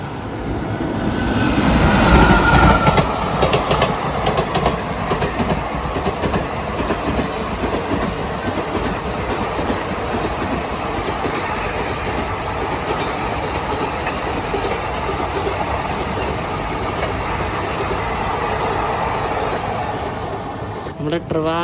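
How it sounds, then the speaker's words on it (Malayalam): Trivandrum–Chennai Superfast express rushing past on a foggy morning, a loud close roar with rattling wheels that swells early and then holds as a sustained rumble of passing carriages, with the horn briefly audible at the start. "നമ്മുടെ ട്രിവാൻഡ്രം ചെന്നൈ സൂപ്പർഫാസ്റ്റ് പോയത് കേട്ടോ"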